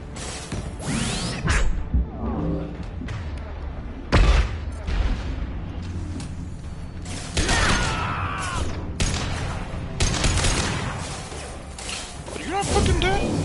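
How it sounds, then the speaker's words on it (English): Sci-fi combat in Mass Effect 2, with sharp bursts of gunfire, impacts and whooshes cracking in quick irregular clusters over a steady rumble, while voices shout now and then. "Taking fire."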